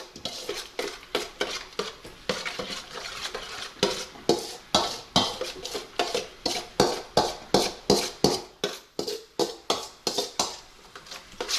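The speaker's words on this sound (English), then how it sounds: "So I'm going to blend this all together." Potato salad dressing with mayonnaise being whisked in a bowl, producing a fast, regular run of scraping, clacking strokes that continue steadily and close up throughout.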